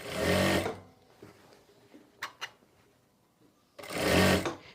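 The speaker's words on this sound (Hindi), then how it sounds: "बिल्कुल पूरे राउंड में हम सिलाई लगा लेंगे।" A sewing machine stitches a kurti sleeve seam all the way round in two close, loud bursts of whirring at the start and end, with faint handling taps and light clicks in the quiet between.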